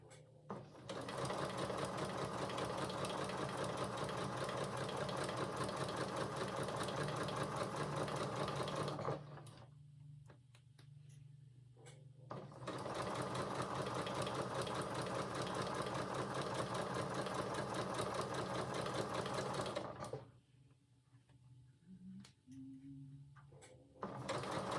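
A sewing machine stitches a dress in two long continuous runs with a short pause between them, its motor whir and rapid needle mechanism steady and fairly faint, with no voices.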